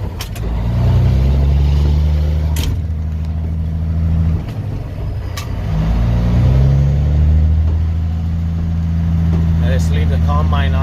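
An old farm truck rig drives during a yellow pea harvest, its engine rumbling loud and steady throughout with strong low harmonics, rising and settling as it moves, with brief clunks and faint voices underneath.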